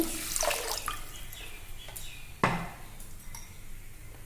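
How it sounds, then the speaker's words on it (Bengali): Water is poured into a pan of lightly fried lentils while making Bengali dal shuktani. It gives a close, splashing, gurgling pour with sharp drips and small clinks from the pan. "এখানে জল দিয়ে দিব পরিমাণ মতো"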